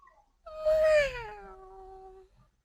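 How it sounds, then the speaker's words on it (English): A pet cat meows once, a clear drawn-out call that falls in pitch and fades, close by in a quiet room. "and this is Atomic, my cat"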